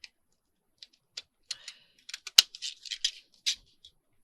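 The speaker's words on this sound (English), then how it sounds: "I love the effects of these scissors" Small crisp snipping clicks, sparse at first and then quicker and denser, as scissors cut close by in a quiet room.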